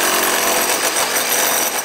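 Jackhammer breaking concrete during renovation work at a school building, a loud, continuous rapid hammering rattle running throughout without pause.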